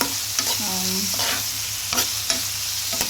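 Garlic and onions fry in a pan with a steady, loud sizzle, while a utensil scrapes and stirs through them in a few distinct strokes, heard up close with no talking.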